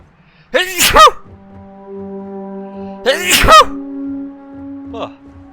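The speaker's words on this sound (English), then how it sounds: "Oh man, I gotta sneeze." A person sneezes twice, loud and close, each burst preceded by a sharp inhale, with a soft steady electronic hum of a game soundtrack underneath and a short vocal noise near the end.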